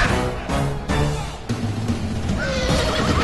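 Horses whinny and neigh amid a dense, chaotic clash of a large Persians-versus-Macedonians cavalry battle in a strategy video game, steady loud din with no talk.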